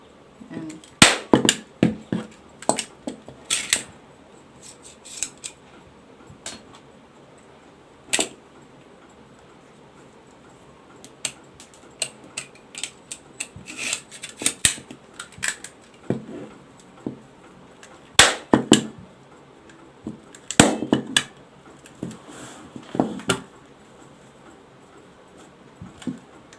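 A hand stapler punches staples through material wrapped around a used car tyre, giving sharp, close clicks in irregular bursts with quiet pauses between them.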